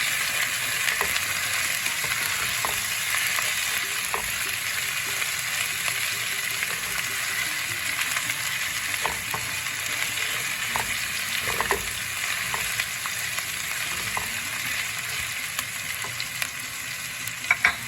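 Garlic, ginger and chilli frying in a pan, a steady bright hissing sizzle throughout with occasional soft ticks and pops, close and uninterrupted.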